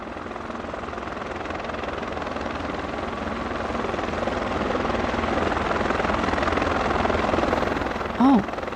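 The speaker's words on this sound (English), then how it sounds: "He said he was going to fly the helicopter over and drop by" A helicopter's steady thudding rotor drone fills the air, loud and continuous, swelling slightly as it passes; a brief voice cuts in near the end.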